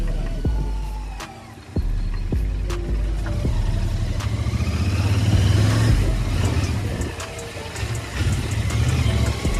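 A 2023 Royal Enfield Interceptor 650 twin-cylinder motorcycle engine while riding, loud and close, with a throaty exhaust note rising and falling through revs and several sharp clicks or knocks along the way.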